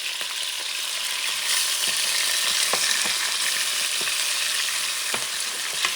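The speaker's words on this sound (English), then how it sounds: "We add the sofrito." Sofrito for Puerto Rican beef tripe soup fries hard in a pot, with a loud steady sizzle and occasional faint clicks of a utensil against the metal.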